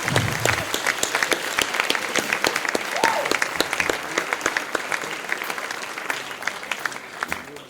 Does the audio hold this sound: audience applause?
yes